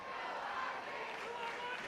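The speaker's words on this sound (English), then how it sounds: "You can hear the Union County crowd in the back cheering for you" Crowd noise from the Union County fans at a state wrestling championship match, a steady wash of cheering and shouting heard from a distance, fairly faint.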